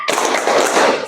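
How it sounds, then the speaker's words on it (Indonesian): A classroom group claps through the 'tepuk semangat' routine, a loud, close, dense burst of many hands clapping together for about a second. "melakukan tepuk semangat."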